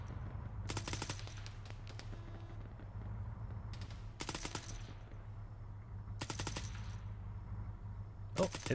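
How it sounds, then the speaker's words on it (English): Automatic rifle fire in the military video game Arma 3 comes in several rapid rattling bursts over a steady low hum, moderately loud and close, separated by short gaps. "let me start shooting back"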